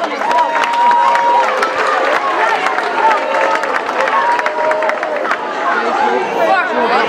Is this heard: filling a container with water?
no